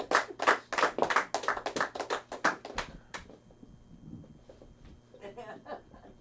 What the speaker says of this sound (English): Give Ben a round of applause.